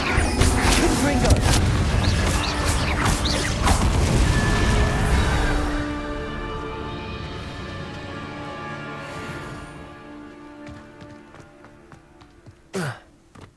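A Confringo blasting spell goes off in the video game Hogwarts Legacy: a loud, dense blast roars for several seconds and then fades into a long ringing, humming decay. A brief sharp hit comes near the end.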